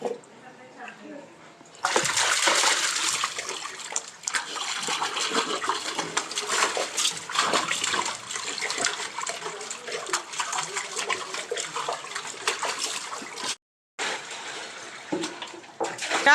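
A child plays in cold bathwater at home, making continuous close splashing and sloshing with brief pauses, while voices talk over the water.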